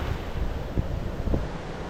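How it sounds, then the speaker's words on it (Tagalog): Strong ocean surf pounds a windy beach on Boracay Island in the Philippines, a steady loud roar of breaking waves mixed with heavy wind buffeting the microphone, with no voices. "Medyo masama nga ang panahon. Grabe yung alon."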